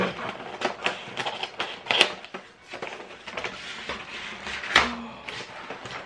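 A Snack Crate USA box of American snacks is opened quietly by hand, with a string of soft crinkling, tapping and cardboard clicks in irregular bursts, close up, no talking.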